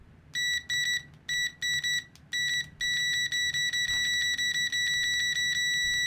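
Multimeter continuity tester on stock HP test leads, giving repeated sharp high beeps, some short and stuttering, then a longer steady tone. Loud and close, no talking, faint handling noise underneath.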